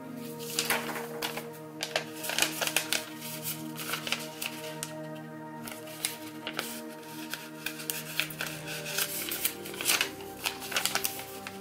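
Sheets of paper being folded and creased by hand to precrease an origami dragon, a steady run of crisp rustles, slides and sharp crease snaps close by, with no talking.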